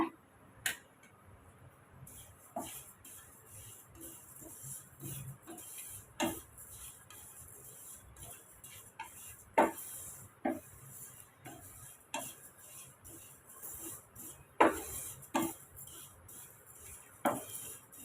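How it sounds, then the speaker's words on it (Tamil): Sesame seeds dry roasting in a pan crackle quietly, with sparse, sharp pops and ticks scattered at irregular intervals over a hushed background. "இப்போ நம்ம எல்லையும் வறுத்து எடுத்தாச்சுங்க சட்டு சட்டு நமக்கு தெரிக்குது பார்த்தீங்களா"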